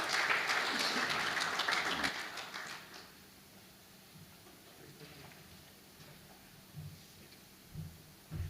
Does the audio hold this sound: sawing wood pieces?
no